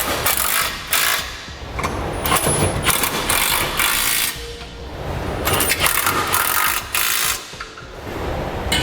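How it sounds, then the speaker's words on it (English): A 3/4 inch socket wrench ratchets repeatedly while tightening cross-rail bolts on a B&W 5th wheel trailer hitch being installed in a 2002 Dodge Ram pickup, giving close, rhythmic clicking bursts with short pauses between strokes. "Now we can tighten and then torque the bolts on the front and rear cross rails here."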